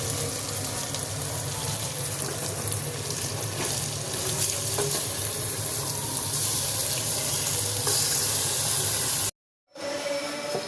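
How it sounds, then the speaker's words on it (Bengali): Mutton with whole onions, garlic and tomato frying together in a pan, a loud continuous hiss and sizzle close by, broken by a brief silent cut near the end before resuming more quietly. "পেঁয়াজ ভাজা হয়ে গেছে, এবার মাংসটা দেবো"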